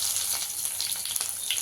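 Garlic dropped into hot oil for a tempering of broad beans sizzles and crackles steadily, a dense close hiss with small pops throughout, no talk.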